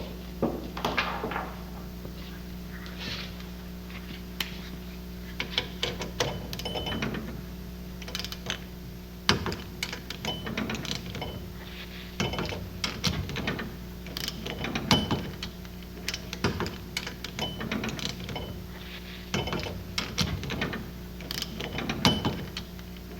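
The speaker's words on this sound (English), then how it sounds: "I'm going to set the torque wrench at that poundage, 45, and we'll go ahead and do these" Ratcheting clicks from a torque wrench tightening connecting rod bolts to 45 pounds, coming in short, repeated bursts of metallic clicks close by, with a steady low hum underneath and no talking.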